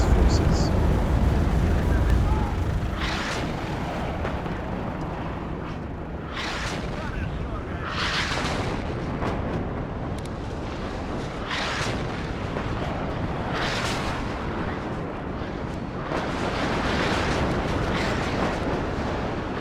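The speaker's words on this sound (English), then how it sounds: "Lots of explosions" Artillery explosions in the real-time strategy game WARNO: a continuous rumbling barrage with repeated heavy booms every couple of seconds and a loud roar at the start.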